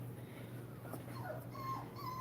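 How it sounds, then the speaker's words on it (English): Faint whimpering and thin cries come from a Nova Scotia Duck Tolling Retriever puppy somewhere across the room. The calls are brief, high and intermittent over a low background hum, and no one speaks. "You hear my puppy over there crying."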